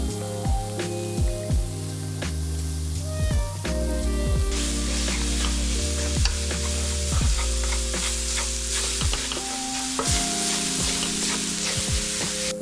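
Tomato paste being stirred into a sautéed mixture in a pan: a bright continuous sizzle with repeated scraping strokes, under tonal background music.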